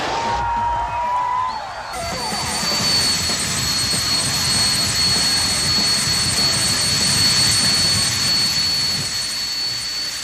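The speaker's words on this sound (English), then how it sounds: "we have full maximum power going through the engine" A jet car's jet engine roars at full power, a loud, steady blast with a high whine, continuous throughout with no voices.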